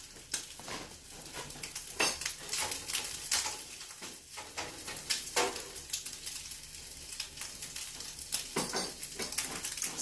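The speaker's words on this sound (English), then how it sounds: "I'm gonna go stir my bacon." Bacon strips fry on the stovetop with a steady crackling sizzle and scattered popping spatters, faint and continuous as it cooks in the pan.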